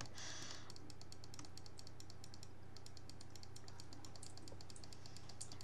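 Rapid keyboard and mouse clicks during a survival game, a quick, dense patter of light taps repeating steadily throughout, close and fairly quiet, with no talk over them.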